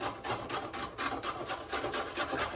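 Carrots grated by hand on a grater for carrot halwa, a steady run of quick rasping strokes about five per second, close and loud with no talking.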